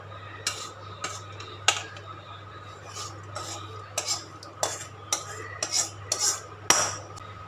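Chickpea paniyaram batter, soft and smooth, being stirred with a spoon after tempering is added, giving repeated clinks and scrapes of metal against the bowl in an irregular rhythm, close and fairly quiet over a steady low hum.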